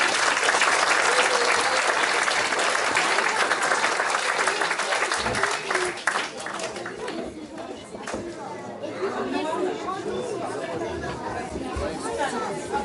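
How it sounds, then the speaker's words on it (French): A crowd claps loudly and steadily, then the applause thins out into scattered claps and murmuring chatter at a school orchestra inauguration ceremony. "on peut aussi l'applaudir"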